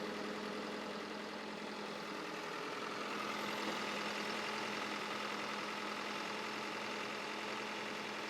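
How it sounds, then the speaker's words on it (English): A 1971 Datsun 510 engine on twin SU carburetors idles smoothly and evenly, a steady low hum with no revving, heard up close and alone. "Very, very smooth idle."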